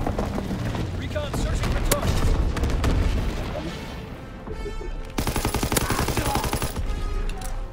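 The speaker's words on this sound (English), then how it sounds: "Strafing run inbound." Rapid machine-gun bursts and booms of an aircraft strafing run in the World War II shooter Call of Duty: WWII, Ardennes map, crackling loudly over battlefield noise while a voice speaks.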